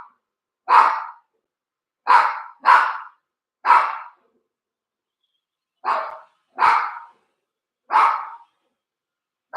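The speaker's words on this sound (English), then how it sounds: "my dog is barking." A dog barks loudly and close by at a robotic vacuum cleaner: eight sharp barks come in short irregular clusters, separated by silent gaps.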